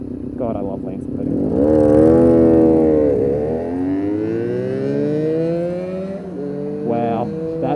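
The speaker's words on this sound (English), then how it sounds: "Wow, that V4 sounds amazing." A Honda RVF400 V4 motorcycle engine revs up and down close by in traffic while lane splitting, its pitch sweeping high and falling back in long rising and dropping waves over steady road rumble.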